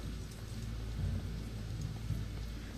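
Rain pelts down in the Shadowrun Hong Kong video game, a steady hiss layered over a low rumble of thunder, with no voices.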